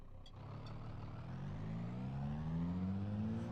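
Car engine in the BeamNG driving game revving up as it accelerates, a steady mid-pitched drone whose tone climbs gradually through the gears, loud and continuous with no talking.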